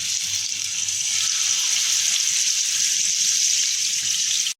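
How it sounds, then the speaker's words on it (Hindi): Chicken pieces sizzle in hot oil over a high flame, a loud, steady frying hiss that carries on without a break and then cuts off abruptly. "हमें चिकन को हाई फ्लेम पर पकाना है।"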